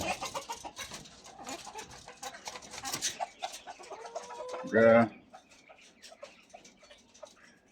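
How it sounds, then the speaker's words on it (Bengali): Black chickens cluck and call while being fed, their short clucks scattered through the clip with one louder squawk near the middle, close by and heard alongside feeding noises. "কালো মুরগিগুলোকে একটু দিচ্ছি"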